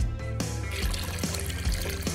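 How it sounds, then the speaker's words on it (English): Juice poured into a bucket, a continuous close liquid splashing and gurgling stream lasting a couple of seconds with no talk. "now I need to pour in some of this juice."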